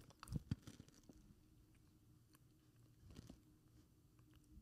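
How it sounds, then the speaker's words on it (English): Close, quiet munching on a mini egg cheesecake, with a couple of soft bites near the start followed by faint, intermittent chewing and squishy mouth sounds at low level. "I was pure munching."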